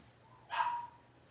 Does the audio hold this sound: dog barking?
yes